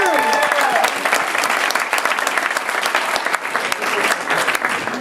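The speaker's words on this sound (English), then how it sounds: "give her a second round of applause because she deserves as many as you can possibly give her" Audience applause for a jury member at a 2012 university debating semi-final in Paris, a dense steady clapping from a large crowd that holds strong for the whole stretch without letting up.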